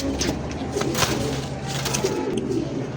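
Kaldom Beauty pigeons, a black male and female pair, coo in soft repeated throaty bursts close by, with faint background noise and no talk.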